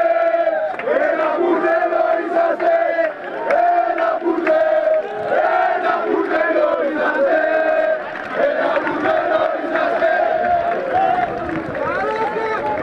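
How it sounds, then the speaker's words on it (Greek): A football crowd at a Pannaxiakos match roars and cheers continuously for its team, a dense, loud wall of voices and shouts from the stands with a commentator talking over it. "Η ομάδα του Παναξιακού παίρνει το χειροκρότημα από τον κόσμο της."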